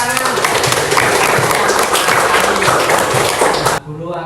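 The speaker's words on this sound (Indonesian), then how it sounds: "Ya, tepuk tangan." A class of students claps together in a classroom, loud mixed clapping with voices and movement noise underneath, stopping abruptly just before the end.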